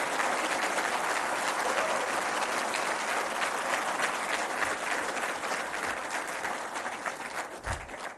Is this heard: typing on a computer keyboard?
no